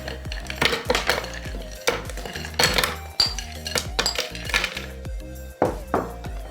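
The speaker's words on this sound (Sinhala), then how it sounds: "ඊට පස්සේ අපි අයිස් කැටි ටිකක් දාගන්න ඕනේ." Ice cubes drop into a container for passion fruit juice, about a dozen sharp, hard clinks and clatters in irregular bursts, close and fairly loud, with no talk.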